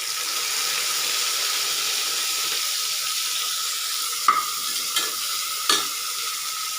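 Onion, tomato and green chilli sauté in a pan for a veg biryani, a steady close sizzle with a few sharp scraping stirs near the end.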